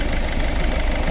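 Peugeot 1.6 HDi diesel engine idling with a steady, dense rumble and faint knocking texture, close and continuous, no voices.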